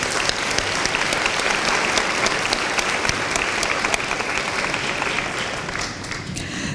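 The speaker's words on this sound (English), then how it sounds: "Can we give them a round of applause?" A seated audience at an evening honor society induction ceremony applauds in a dense, steady wash of clapping that holds strongly for about six seconds before easing slightly at the end.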